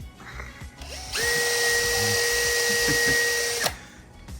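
A power tool whines steadily for a few seconds while bolts for a golf cart are polished in a workshop, starting and stopping abruptly with faint background noise around it.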